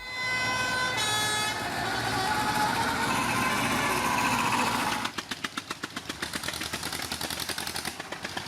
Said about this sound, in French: C'est un défilé visuel, mais aussi sonore, avec tous les klaxons.